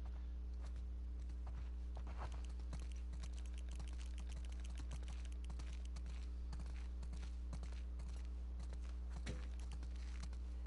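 Soft, irregular clops of horse hooves walking on ground in the video game The Last of Us Part II, faint and steady over a low constant hum.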